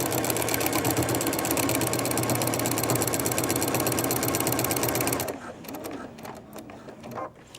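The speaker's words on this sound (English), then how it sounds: "Rotate, sew the remaining bottom of the side seam." A sewing machine fitted with a walking foot sews the side seam of a diaper bag in a fast, steady mechanical run, close and loud, then stops abruptly, leaving a few quiet handling clicks.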